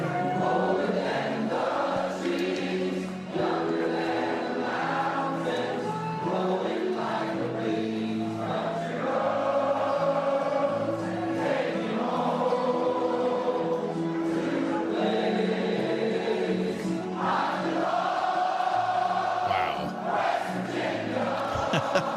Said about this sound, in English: This is the team singing